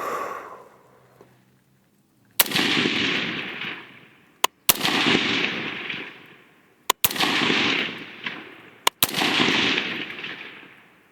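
Rifle fire from a 16-inch barrel shooting 5.56 62 grain FMJ at targets 300 yards out: five loud, sharp cracks spaced about two seconds apart, each followed by a long rolling echo.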